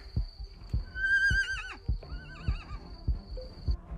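An agitated horse whinnies loudly outdoors, a long wavering neigh with rising and falling pitch, accompanied by heavy thumping sounds and a steady high electronic tone in the background.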